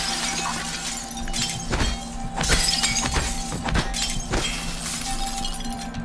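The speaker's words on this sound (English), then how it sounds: "I'm going to have to break your glass" Glass smashing in the sci-fi game Prey, a loud, bright shatter with several sharp crashes and tinkling debris against a steady humming ambience.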